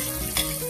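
Garlic and onion sizzle briefly in a hot pan while being sautéed for pork menudo, a close, steady frying crackle.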